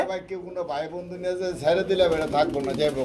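Low, throaty pigeon coos roll on steadily at close range, with several birds overlapping in a soft, murmuring chorus.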